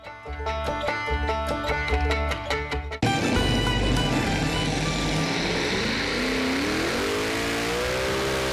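Ford Noemi tractor, four alcohol-fuelled engines totalling 10,000 horsepower, roaring at a tractor pulling contest in Cavalier di Chiarano; loud sustained engine roar that swells abruptly after a rhythmic opening and holds steady, with pitch sweeps near the end.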